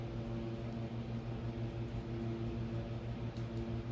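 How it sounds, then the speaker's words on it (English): Steady mechanical hum with tonal drone and airy background noise from a garage heater running, constant and quiet, with no talking. "I have my garage heater running, so if you hear that noise in the background"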